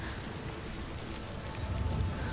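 Even, continuous rain patter in Hellblade 2, a soft wash of falling drops that swells slightly with a low rumble toward the end.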